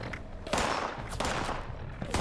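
Creatures fire guns in Fallout 76, with several bursts of gunfire cracking out amid continuous noisy game action over a couple of seconds.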